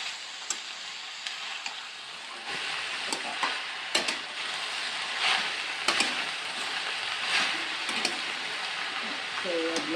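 Chopped brinjal sizzles steadily in a hot pan for badnekai palya, with a few sharp scraping clicks from stirring scattered through a broad, continuous frying hiss.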